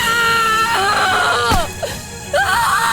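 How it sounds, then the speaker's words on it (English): A woman screams in pain in a forest after a spike pierces her foot, loud sustained wavering cries with rising and falling pitch, close and dominant over a steady background. "her screams echoing through the forest"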